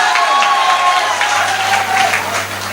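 Audience at a Hindi comic poetry recital breaks into loud, sustained clapping and cheering, a dense wash of applause from a large crowd with a faint sustained tone underneath.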